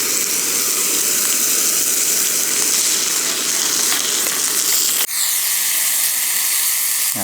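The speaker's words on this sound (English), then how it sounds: "Ooh, look at a sizzle." Pork frying in plenty of oil in a pan, with a loud, steady hiss and crackle that runs close and unbroken, dipping only briefly before carrying on at the same level.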